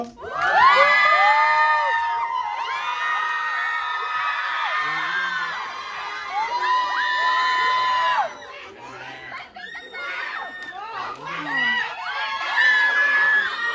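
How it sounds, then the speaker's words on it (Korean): A crowd at a stage greeting for the film Veteran 2 erupts in loud, high-pitched cheering and shrieks as the actors appear, sustained screams rising and falling in waves, with clapping buried underneath. "저희 배우분들 바로 뜨거운 박수로 한번 모셔보겠습니다. 큰 박수 부탁드립니다."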